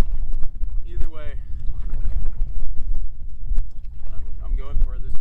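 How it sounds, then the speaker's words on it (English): Wind blows steadily over a canoe on a Canadian wilderness river, a close, rumbling buffet against the microphone, while someone talks over it. "the wind is starting to pick up too"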